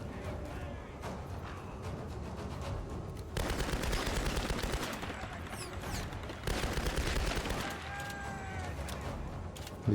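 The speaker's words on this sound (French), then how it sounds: "Il est trop puissant mon flingue par contre." Gunfire in the video game Tomb Raider, dense rapid bursts swelling loudly in two stretches over a continuous busy game soundscape, with brief tonal whines near the end.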